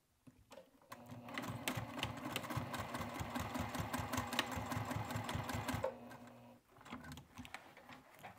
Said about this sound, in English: fold the darts right sides facing, lining up those edges, and sew it a 3/8 inch seam allowance